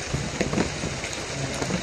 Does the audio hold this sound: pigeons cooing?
no